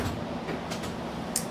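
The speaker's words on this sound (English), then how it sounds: "We're just going on the train here. On a fun little train ride. Or streetcar ride." A streetcar rolling along St Clair West, heard from inside as a steady low rumble of wheels on rails with light rattling and a brief clank near the end.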